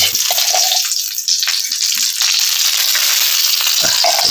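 Steady, loud sizzle of desi ghee frying over a gas flame, a continuous bright crackling hiss throughout with no talking.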